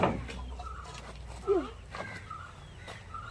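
A chicken clucks a few short times at close range, with one louder cluck in the middle over a quiet outdoor background.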